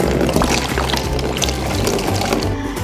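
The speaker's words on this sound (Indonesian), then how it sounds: "airnya akan tumpah" Water pours and splashes out of a pressed plastic bottle in a simple home experiment, loud and close, as a continuous gushing stream for the whole stretch.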